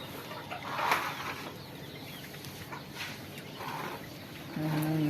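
Broiler farm chickens cluck and murmur in a noisy coop, with a few louder calls rising over a constant background din.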